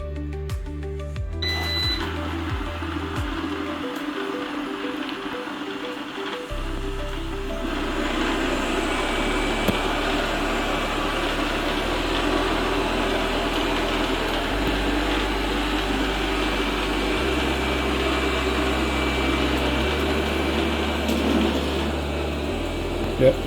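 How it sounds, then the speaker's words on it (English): A Eufy robot vacuum cleaner, freshly fitted with a replacement battery, starts up after a few clicks and then runs with a steady, close motor whir and brush hum that shifts pitch slightly, with no talking. "then I will just run the hoover and see if it's working fine now"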